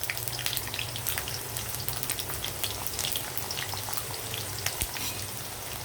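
Whole spices sizzling and popping in hot oil in a pan while paratha and garlic chicken fry are cooked, a steady close crackling hiss scattered with sharp little pops, no talking.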